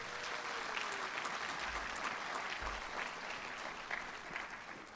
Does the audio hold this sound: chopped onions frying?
no